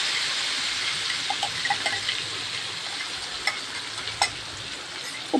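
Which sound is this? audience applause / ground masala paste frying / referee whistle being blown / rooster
ground masala paste frying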